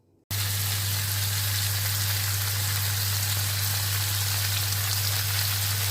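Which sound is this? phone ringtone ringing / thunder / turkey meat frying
turkey meat frying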